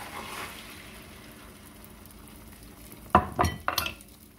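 Spinach mixture for a spinach torta going into a hot pan: quiet background, then a few loud sizzling, scraping bursts close by near the end, with no talk.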